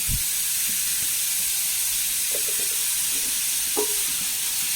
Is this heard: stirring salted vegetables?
yes